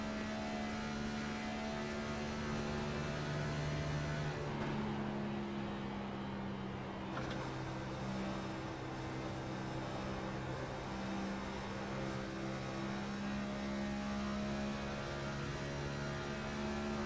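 A Cup Series race car engine drones in a sim racing game at Atlanta, a sustained, steady roar with shifting tones and one brief dip, no speech.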